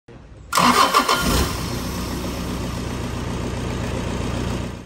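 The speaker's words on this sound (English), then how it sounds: "Compare with the engine operating normally." A Toyota Hiace engine cranks and catches after a short starter whirr, briefly revs loud, then settles into a steady, even idle running normally, close up and alone.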